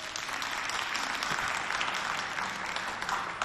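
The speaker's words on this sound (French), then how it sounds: "Sous vos applaudissements pour nous inviter." Studio audience applause fills a French-language television variety show, a steady, dense wash of clapping that holds at an even level throughout with no voices over it.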